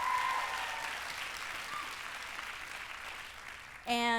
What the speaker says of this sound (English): Round of applause for the students at Cal State